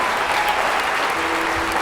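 Dense, loud audience applause for speaker Farid Dieck after a talk, a steady wash of many hands clapping at once, sustained throughout.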